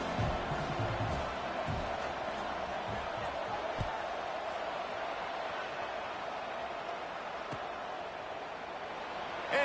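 A football stadium crowd roars as a broad, steady wash of noise throughout, a game announcer speaking over it, with occasional louder thumps and bursts.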